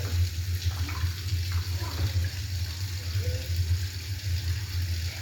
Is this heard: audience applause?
no